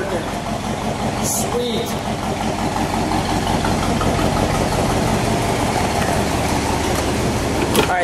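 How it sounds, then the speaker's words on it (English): A 1959 Dodge Sierra station wagon idles with a slight exhaust leak, a low, steady engine rumble that holds close and even, while a voice speaks briefly over it. "Sounds like there's a little exhaust leak, just like there would have been in the 50s."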